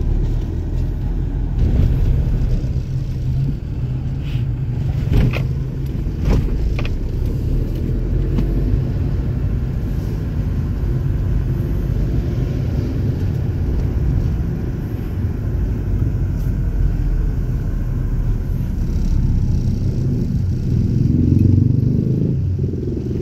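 Steady low engine rumble and road noise inside a moving Ford EcoSport car, continuous and close with occasional light clatters and scrapes, no talking.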